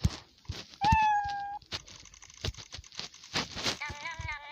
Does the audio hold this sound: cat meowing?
yes